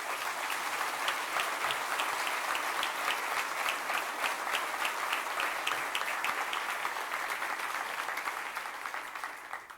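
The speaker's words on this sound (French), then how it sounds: "Merci, messieurs, dames, de l'applaudir encore une fois" Sustained applause from a large audience at a public rally in the Zénith, dense clapping filling the whole stretch at steady loudness before easing slightly at the end.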